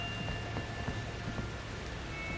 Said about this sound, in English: This one is literally blood rain.